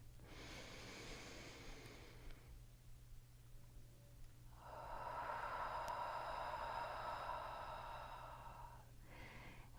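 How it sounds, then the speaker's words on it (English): Slow, deep breathing alone with a steady low hum underneath: an airy exhale, a quiet pause, then a long, louder breath and the start of another, close to the microphone. "Taking a little bit more, and exhale."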